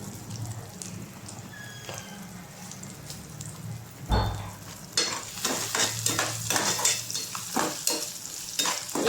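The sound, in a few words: stirring cumin into frying ginger garlic paste for upma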